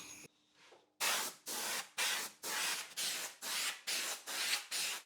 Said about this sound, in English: I tend to use a blower with my air compressor for this